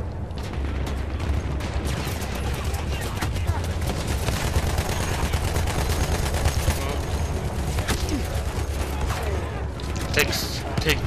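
Rapid bursts of automatic gunfire from the World War I shooter Battlefield 1 crackle continuously with heavy explosions and mechanical clatter, loud and dense throughout.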